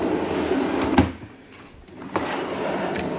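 The bottom drawer of a makeup vanity slides open close by, with a sharp knock at the start, a sliding rumble, a quiet pause, then another bump as it stops.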